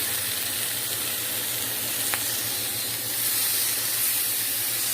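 Steak topped with herb goat cheese sears in a hot pan, giving a loud, steady sizzle and hiss that runs unbroken from start to finish with no voices over it.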